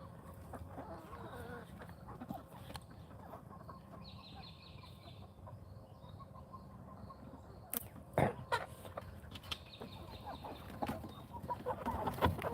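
Farm chickens cluck softly at a distance over steady outdoor background noise, with a few sharper knocks and rustles toward the end and no talking.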